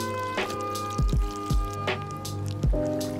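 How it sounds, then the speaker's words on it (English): Liquid watercolor pigment drips and plops into water several times at irregular intervals over a steady mechanical hum, each splash short and close. "I like to pour in the pigment little by little until I get the color that I want."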